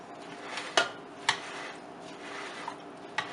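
Pressed garlic gets mixed into a tabouli salad of basic fresh ingredients in a bowl, with a few soft clinks of a utensil against the dish spaced out over quiet, close-up stirring.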